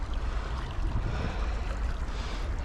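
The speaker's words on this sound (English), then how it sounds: "I'm gonna try to give you some quiet river sounds." A quiet river flows steadily in Tokyo, a soft, even wash of water heard outdoors with faint ambient rumble and no voices.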